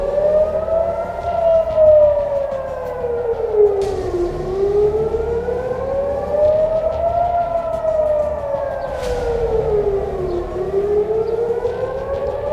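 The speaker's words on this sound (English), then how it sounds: "Just one set of air raid sirens after another." A civil defense air raid siren in Israel, sounding during a rocket attack, wails loudly and continuously, its pitch rising and falling in slow cycles of several seconds each, with no voices.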